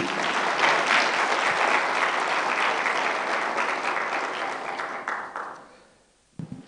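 An audience at an intellectual property creators awards ceremony breaks into a full burst of applause that holds steady for several seconds, then fades away and stops, with one brief flurry of claps right at the end.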